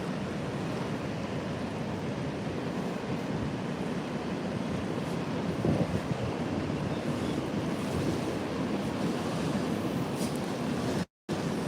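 Ocean surf washes steadily onto a beach, a continuous loud rushing roar of breaking waves with some wind buffeting the microphone and no voices.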